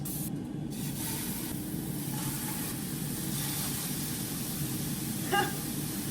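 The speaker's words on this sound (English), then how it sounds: "so now we're gonna actually cook up the burgers" Burgers frying in a hot pan on a home stove, a continuous even sizzle and hiss with one brief clink near the end.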